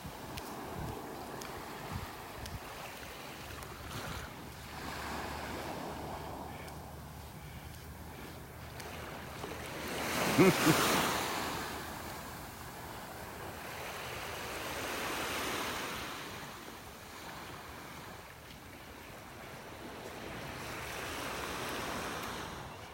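Ocean waves wash onto a beach in North Naples, Florida, a steady surf roar with a louder breaking wave midway and gusts of wind noise over the microphone, no talking.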